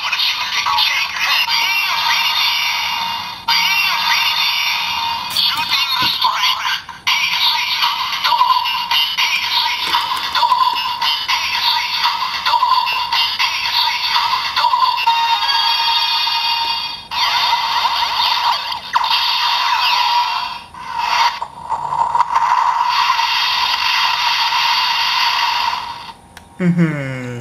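Loud electronic sound effects from a toy transformation belt scanning items play in long, buzzy bursts with a few brief pauses, the final burst cutting off abruptly.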